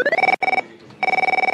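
A telephone rings for a live call-in to a Greek satirical TV show, giving two bursts of rapid electronic trills separated by a short pause, loud and close with no voices.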